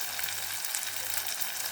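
Tempering frying in a pan with turmeric, for Bombay chutney to serve with puri, gives a steady, even sizzle and crackle that holds without a break, close and fairly loud.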